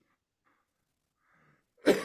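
A single sharp cough from a radio show host breaks a near-silent pause, loud and close, after faint murmurs.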